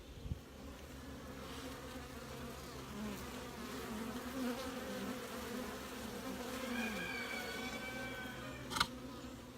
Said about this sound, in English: Bees are super, super active.